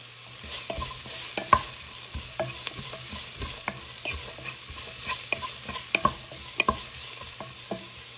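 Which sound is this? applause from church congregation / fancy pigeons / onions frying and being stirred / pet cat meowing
onions frying and being stirred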